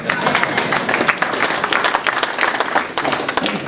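Audience at a Lake County, Ohio Tea Party meeting applauding loudly and steadily, dense crowd clapping filling the room throughout.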